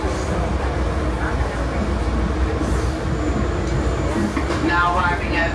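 Tri-Rail commuter train rumbling along between Miami International Airport and Fort Lauderdale Airport stations, a steady, loud low-frequency drone heard from inside the car with faint intermittent voices and announcements.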